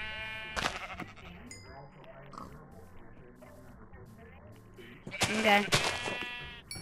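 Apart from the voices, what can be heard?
sheep bleating in the video game Minecraft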